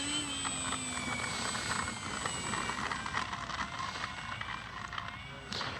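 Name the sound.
Kavan Bristell B-23 RC model airplane flying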